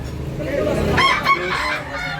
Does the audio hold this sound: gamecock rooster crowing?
yes